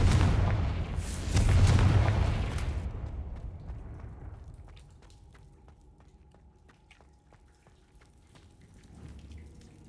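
Confringo blasting curse detonating in the Hogwarts Legacy video game: a loud, booming explosion at the start that rumbles and decays over a few seconds, followed by scattered crackling debris and quieter ambient game sound.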